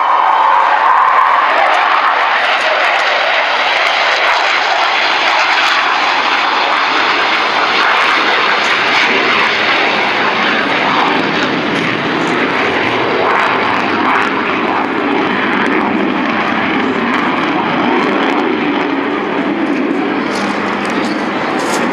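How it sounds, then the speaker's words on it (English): An Avro Vulcan bomber roars steadily overhead, a loud, continuous rumble with a broad rushing hiss that slowly shifts in tone as it passes. "she became this khaki-painted, low-level conventional bomber"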